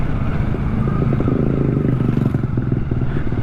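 A Kawasaki Ninja 650 motorcycle engine runs steadily with a loud, close, throaty drone and a rising rev through the short stretch, with no voices.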